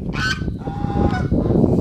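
Farmyard geese, among them a Toulouse goose, give loud nasal honks close by, a few calls in a short burst over low background noise.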